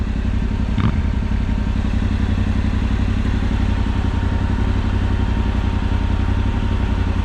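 Yamaha Ténéré 700 motorcycle engine running steadily on a Pyrenees mountain track, a loud continuous low rumble close by with a brief clatter or thump near the start.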